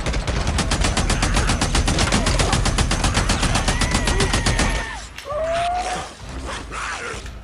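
Rapid automatic gunfire from the game Days Gone as a horde is shot, a dense steady stream of loud shots for about five seconds, then breaking into scattered bursts and creature noises.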